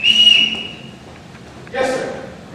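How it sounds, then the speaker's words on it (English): A shrill whistle is blown as a signal during a live community theater stage performance of The Sound of Music, a short sharp blast followed by a voice. "Everyone in this house answers to a whistle."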